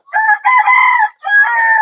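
A desi chicken raised on a floor crows loudly and close, three bright drawn-out bursts with short breaks between them.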